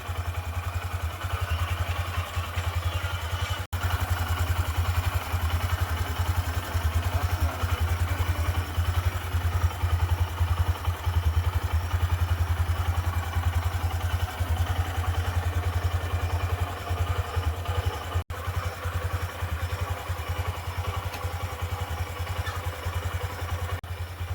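A motorcycle being ridden gives a steady, continuous engine drone with rushing wind noise, unbroken for the whole stretch and fairly close.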